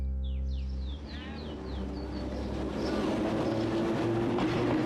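The Sóller to Palma railway train on Mallorca rumbles along with a steady rolling clatter, while birds chirp and whistle clearly in the foreground during the first few seconds.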